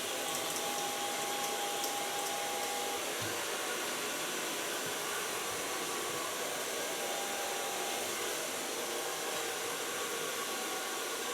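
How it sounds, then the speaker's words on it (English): A hair dryer blows continuously on ultra short hair, a steady close whooshing roar holding level for several seconds with no talk. "Start blow drying."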